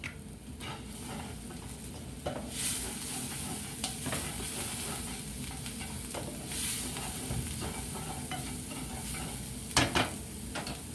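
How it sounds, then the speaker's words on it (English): Bacon with a pinch of salt sizzles steadily in a pot for New Orleans red beans and rice, with a continuous crackle and occasional scraping stirs. "Stir that around a little bit."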